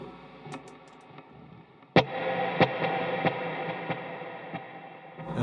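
An electric guitar played through a delay pedal running two separate delays at once, with sharp plucked notes followed by repeating echoes that ring out over a sustained, layered tone, moderately quiet.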